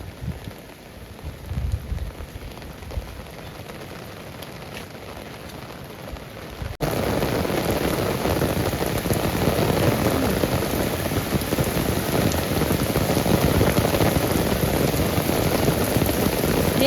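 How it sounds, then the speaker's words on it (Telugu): Steady rain falls during a monsoon visit to Lavasa near Pune, a soft hiss at first that suddenly swells into a denser, louder downpour for the rest of the stretch, with no voices. "మేము వెళ్ళిన టైంకి అయితే వర్షం అసలు పడతానే ఉంది."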